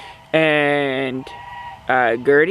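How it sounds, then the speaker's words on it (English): A white Chinese goose honks loudly and close by in two bursts, one long and one shorter with a few quick calls, while a person talks faintly between the calls. "We have two types of geese that we're mainly going to be breeding, and those are white Chinese"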